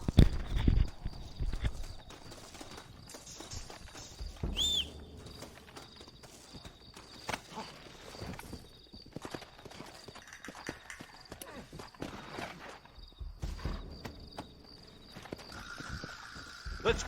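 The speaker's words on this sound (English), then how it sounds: "Looks like Carlos left us some horses." Horses in the Western video game Red Dead Redemption, with loud hoof clip-clops at the start, then steady galloping hoofbeats running under game ambience and a brief whinny.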